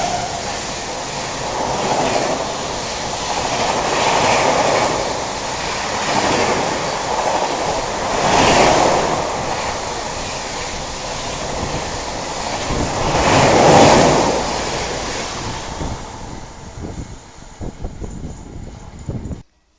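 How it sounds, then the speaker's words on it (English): The New Delhi–Howrah Rajdhani Express via Gaya, hauled by a WAP7 locomotive, rumbles past with a loud, sustained roar. Rhythmic swells of wheel clatter mark each coach before the sound fades at the end. "302 New Delhi Howrah Rajdhani Express via Gaya locomotive WAP7"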